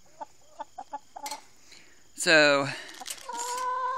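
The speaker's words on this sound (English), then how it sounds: "This chicken wants me." Chickens cluck in a short series of soft close calls, then one hen lets out a loud drawn-out squawk and keeps clucking, with someone briefly speaking.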